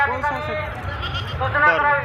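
A goat brought to the Malegaon fair livestock market bleats in wavering, drawn-out cries, close and loud, with crowd murmur and background voices at the fairground.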